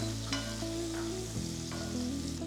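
Finely chopped onion sizzling steadily in a pan with spices and garlic for paneer lababdar, a constant close frying hiss with occasional stirring scrapes.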